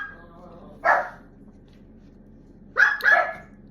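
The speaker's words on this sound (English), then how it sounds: "my dog just saw somebody outside" A dog barks indoors at someone outside, one sharp bark followed about two seconds later by a quick double bark, fairly close and loud against a quiet room.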